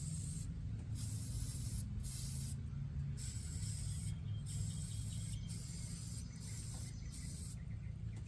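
A coating is sprayed onto the underside of a Dodge Ram 3500 truck in a run of repeated short hissing bursts with brief gaps, fairly faint and steady throughout.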